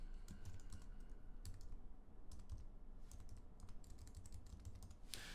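Fingers tap on a computer keyboard in quick irregular runs of soft clicks, with one louder clack near the end, against a faint steady hum.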